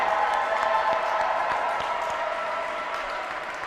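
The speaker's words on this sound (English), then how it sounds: "let's just cheer for Anita" A Pride celebration audience claps and cheers for a drag performer, a dense, continuous wash of applause that tapers slightly over a few seconds.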